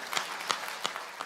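A church congregation claps in a slow, even rhythm, four sharp beats at moderate volume in a reverberant room, with no voices over them.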